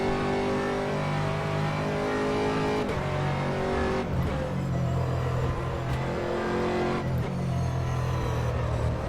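Aston Martin race car at Silverstone in a racing video game: a steady, loud engine drone with rising and falling revs through gear changes, heard close and continuous with no voices.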